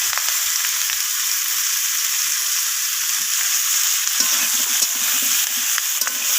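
Vegetables with flat broad beans (sheem), kohlrabi and eggplant sizzle steadily in fish oil, with a spatula scraping and stirring the pan in irregular strokes and a louder stirring burst toward the end.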